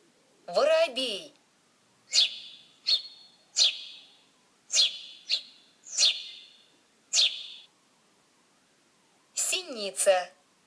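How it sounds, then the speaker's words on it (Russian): A sparrow gives a string of short, bright chirps in an uneven rhythm, close and clear, with a voice speaking briefly before and after the calls. "Воробей."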